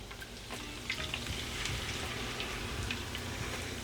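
Melted butter and 1.5 cups of heavy whipping cream sizzle steadily in a pan for an Applebee's-style Cajun Alfredo sauce, a close, continuous frying hiss with faint bubbling pops and no talking.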